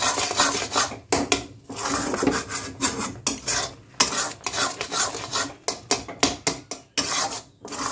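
A utensil scrapes and stirs potol misti, sweet pointed gourd, in a pan over low gas. Repeated rhythmic scraping and clinking strokes come with brief pauses between them, close and fairly loud.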